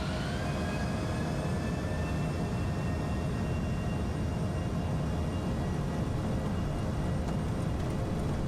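FSS E-Jet engines in MSFS 2020 run at takeoff thrust for departure from Cape Town, giving a steady, loud roar. A thin whine climbs slowly as the engines spool up, with no voices over it.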